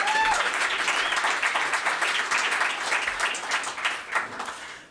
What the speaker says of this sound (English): another round of applause for David Fink